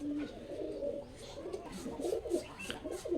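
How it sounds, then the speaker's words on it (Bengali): Black pigeons cooing close by, soft low rolling coos repeating through the moment alongside the faint rustle of the birds in a loft. "এই যে এগুলা সব আমার কালো কবুতর"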